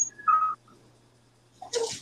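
A dog whimpers in short high whines: a thin nasal cry, a pause of near silence, then a brighter yelp-like whimper near the end.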